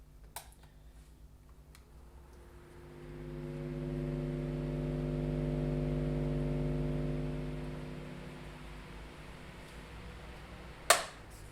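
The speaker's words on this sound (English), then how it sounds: "If I turn this fan on, we've got a motor in the back of there" An electric fan's motor spins up, hums steadily for several seconds with a low tonal whine, then winds down, heard faint and close in a quiet room with a sharp click near the end.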